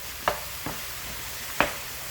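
A ground meat and pepper mixture sizzles softly in a pan, and three short scraping strokes of a stirring utensil cut through the low, steady frying hiss.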